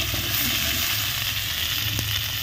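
Panch phoron, dry chilli, onion, potato and drumstick pieces fry in hot oil for a village-style koi fish curry, giving a steady, close, continuous sizzle with no talking.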